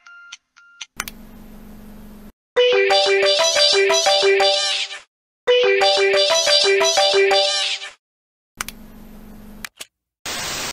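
Musical tones pieced together from short meows, playing as two bright melodic phrases with brief gaps, a few isolated chirps and clicks at the start and end.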